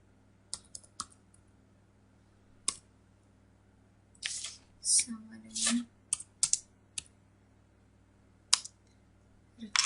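Fingers type a script on a computer keyboard, giving bursts of sharp clicks at irregular intervals with short pauses between them, close and clear. A brief spoken phrase comes in between the keystrokes.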